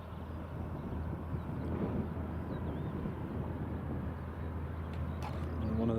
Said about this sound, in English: that's them just taxiing along the stand